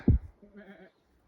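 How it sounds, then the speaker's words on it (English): A goat on the 1000 Acre Plateau in Kahurangi, New Zealand, lets out a single short, fairly close bleat, followed by a faint rougher sound and then quiet. "Look at the goat."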